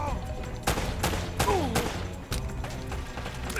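Gunfire in the action game Uncharted: Drake's Fortune, several sharp shots and short bursts over a dense layer of game music and effects.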